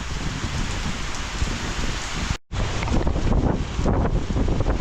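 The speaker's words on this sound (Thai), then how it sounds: "จอดรถปุ๊บ ฝนมาปั๊บ" Heavy rain pours down in a dense, loud roar, briefly cut off by a short gap before the downpour resumes just as strong.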